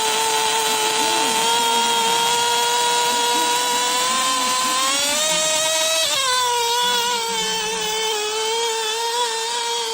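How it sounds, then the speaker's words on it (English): A small remote control tractor pulling a sled at a sanctioned micro mini tractor pull, its high-pitched electric whine droning loud and steady throughout, shifting pitch midway as the load changes. "They're going to actually pull a sled with a remote control tractor pull"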